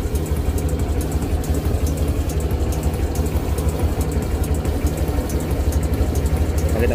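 A Honda fuel-injected motorcycle engine idles steadily while the throttle body air screw is turned, giving a constant close, rhythmic low-pitched chug with no voices over it.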